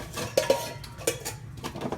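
Dishes clatter as they are handled for feeding a group of animals, several sharp clinks and knocks of pet bowls set down close by, with no talking.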